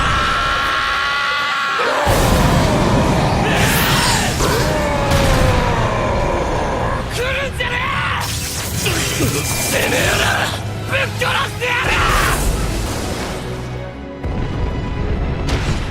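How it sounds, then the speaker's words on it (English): A Titan transformation scream from the Attack on Titan anime, a loud, sustained roaring scream layered with booming impacts, rumbling and dramatic score, dense and continuous throughout. "Eren's coordinate scream in Season 2, Episode 12, titled The Scream"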